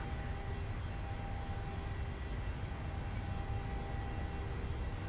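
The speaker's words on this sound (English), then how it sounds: "Takeoff just set." A PMDG 737-800 begins its takeoff roll in a flight simulator, a steady low jet engine roar and rumble that stays even and moderately loud throughout, with no voices over it.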